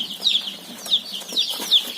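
Chickens on a poultry farm give short, repeated clucks and squawks, several distinct calls spaced across two seconds at close range, with no talking.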